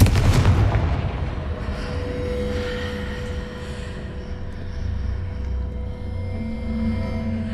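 A Confringo fire spell blasts off in Hogwarts Legacy, opening with a loud booming burst and fading into a rolling, rumbling low tail with a lingering hum.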